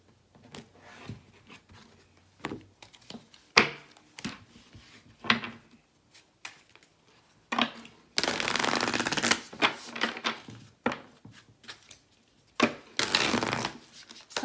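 A Sacred Destiny Oracle card deck is shuffled close by in repeated bursts of riffling and sliding cards, with longer, denser shuffles near the end and quiet gaps between.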